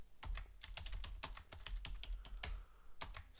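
Typing on a computer keyboard: a quick, irregular run of crisp key clicks, close and fairly quiet, with no one talking.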